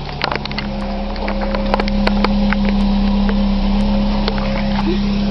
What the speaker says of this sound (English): I just put the camera down near the exhaust so you can listen to it from behind, so it does sound a lot nicer.